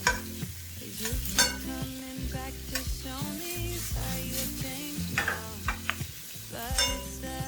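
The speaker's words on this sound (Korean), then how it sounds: "소세지와 베이컨을 넣고 중불로 1분 정도" Sausage and bacon stir-fried over medium heat in a pan for rosé tteokbokki, with steady scraping stirs and knocks layered over a continuous sizzle and what sounds like background music.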